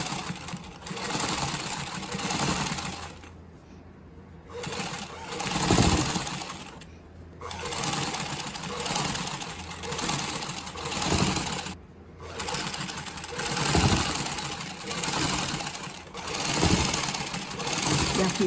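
A sewing machine stitches rickrack trim onto a baby diaper, its motor whirring loudly in long runs that swell and ease, broken by a few brief pauses, with faint talk underneath.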